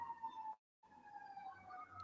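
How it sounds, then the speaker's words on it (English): Emergency sirens wail outside, a steady rising-and-falling tone that cuts out briefly and then resumes, carrying continuously at moderate distance. "Good sirens. Hope everyone can hear that."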